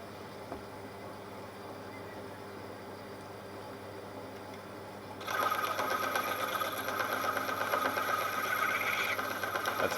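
A lathe turns a Lombardini diesel crankshaft at about 700 RPM, a faint motor hum that is joined partway through by a louder, rattly cutting sound from the interrupted cut, continuing steadily to the end.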